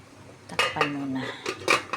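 A metal lid is set onto a cooking pot of fish tinola with broccoli, giving a few close clanks and scrapes of metal against metal with a short ringing tone, and no one talking.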